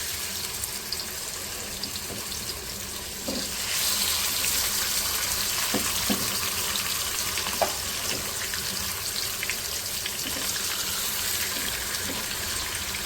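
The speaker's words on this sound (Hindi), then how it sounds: "इस ऑयल में हम मैरिनेट हुए हुए चिकन के पीस रखें।" Marinated chicken pieces fry in oil in a large kadai over high heat, giving a steady broadband sizzle that grows louder after a few seconds, with occasional small clinks close by and no talking.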